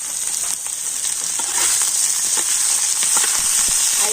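Carrots and other vegetables frying in oil in a pan, a continuous close sizzle with scattered crackles and pops that grows slightly louder partway through.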